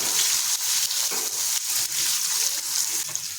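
Long-sliced onions dropped into hot oil with cumin and a pinch of asafoetida, sizzling loudly and steadily, with intermittent stirring clatters, for a spiny gourd (kantola) vegetable dish.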